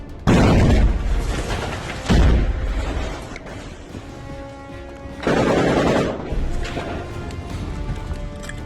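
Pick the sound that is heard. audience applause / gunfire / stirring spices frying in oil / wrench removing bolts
gunfire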